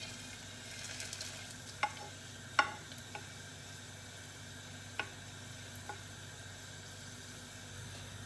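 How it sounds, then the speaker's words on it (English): Quiet, steady sizzling of garlic frying in hot oil, with a few faint clicks and taps of a utensil against the pan. "It's really sizzling now."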